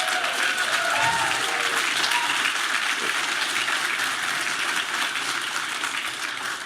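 A panel audience applauds, with a loud, dense wash of clapping that holds steady throughout.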